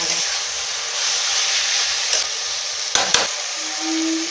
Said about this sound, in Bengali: মাংসটা ভালো করে চাপা দিয়ে দিয়ে কষে নেবো।